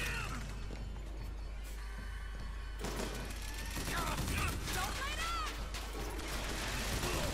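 Repeater machine gun fire in Bioshock Infinite, dense chattering bursts over a constant game background, with a voice talking throughout and whistling tonal effects in the second half.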